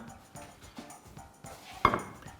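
A plate being picked up and handled in a kitchen while cooking shrimp pasta, soft knocks and scrapes followed by one sharp ceramic clink, close by.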